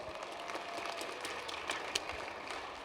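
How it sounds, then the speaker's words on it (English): Crowd applause at a high jump competition, a quiet, distant patter of scattered clapping that carries on steadily with a few sharper claps standing out. "Let's give Gilina a big round of applause"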